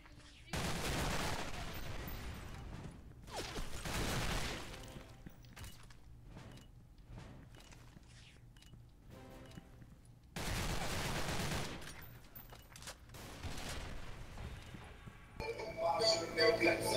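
Bursts of automatic gunfire in the online shooter Special Force 2, dense rattling volleys separated by quieter gaps, with players talking over headsets during the match.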